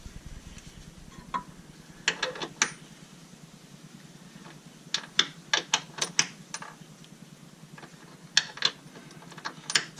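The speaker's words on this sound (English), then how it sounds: "Switch back to the breaker bar." Sharp ratcheting clicks in short bursts as a breaker bar tightens a bolt on a rock slider being installed on a Jeep Wrangler JL, with quiet pauses between turns.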